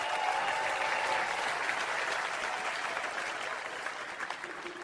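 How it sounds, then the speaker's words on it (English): A theater crowd at a stand-up comedy show gives a sustained round of applause, dense clapping that slowly tapers over about five seconds. "Give her a round of applause."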